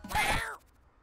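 A single short cat meow in the game YIIK, close and fairly clear, lasting about half a second before quiet.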